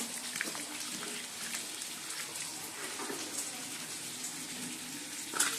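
Soybeans being washed under a running tap in a home kitchen, giving a steady, close splashing and pattering of water with no talk.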